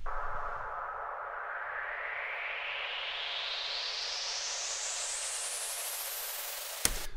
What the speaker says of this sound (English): I just took a white noise riser I made in Drums and Knock Volume 4